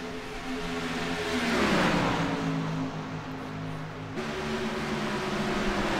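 Trophy trucks in a racing video game accelerating around the Kansas track, several engine tones droning and rising in pitch together, with one sweeping shift midway, loud and continuous with no talk.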